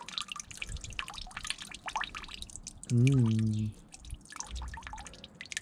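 Coolant water draining from a Toyota Supra cooling system, scattered drips and splashes close by, then a brief gurgling rush of liquid before the dripping resumes; a person speaks briefly.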